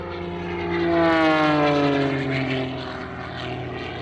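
A Wolf Pitts Pro aerobatic biplane with a powerful engine flies by at an airshow, its propeller drone rising to a peak then falling in pitch as it passes close and moves away, loud and alone.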